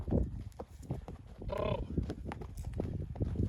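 Shuffling hooves and movement of large draft horses nearby, with a short low snort or whinny-like call midway; faint background noise.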